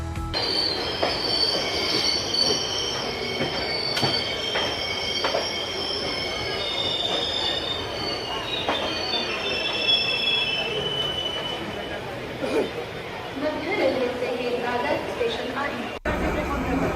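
A train rumbles in with sustained high metallic wheel squeals over a steady roar, while a voice talks over it.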